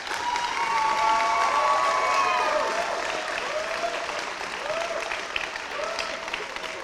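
Audience applause at a Catholic college Year 12 awards ceremony, a steady sustained round of clapping from a hall crowd that swells and then gradually thins, with a voice faintly heard over it.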